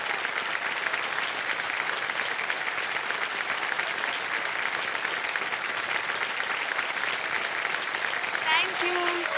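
Sustained, dense applause from a studio audience on a televised quiz show, steady and loud for the whole stretch with no pauses, as the crowd claps for a contestant's win.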